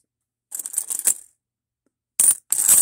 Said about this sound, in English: Mexican coins.